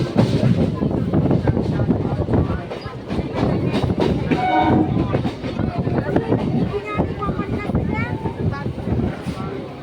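Passenger train travelling from Palpara to Taherpur in West Bengal, its steady rolling rumble and rail clatter continuous and close throughout, with voices chattering in the carriage over it.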